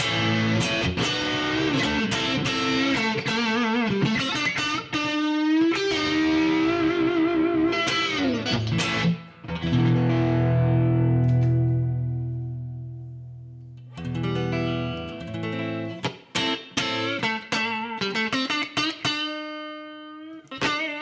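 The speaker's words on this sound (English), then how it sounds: "When I kick in this other pedal here, what it does is it increases the gain of the amp." Overdriven electric guitar rings out through an amp with a gain-boosting pedal and a little spring reverb, with sustained gritty chords and notes, a long low held tone in the middle, then more choppy playing.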